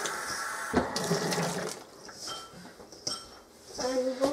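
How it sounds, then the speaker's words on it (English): Running tap water with hands being washed under it in a home kitchen, splashing and trickling with a few clinks of dishes, close and moderately loud throughout. "now I'm done washing my hands"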